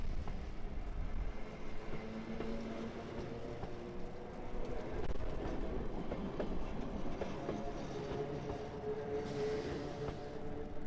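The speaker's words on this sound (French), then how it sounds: "notre train va redescendre légèrement, continuant à sillonner les hauts plateaux catalans jusqu'à son terminus" Narrow-gauge Train Jaune rolling over its rails across the high Catalan plateaus, a steady loud rumble of wheels and carriages with faint clickety-clack and occasional squealing tones throughout, no voices.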